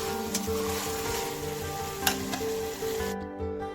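Potol kosha, pointed gourd cooking with garam masala in a pan, sizzles steadily while being stirred, with a few sharp scraping clicks of the spoon; the sizzle stays faint and even throughout.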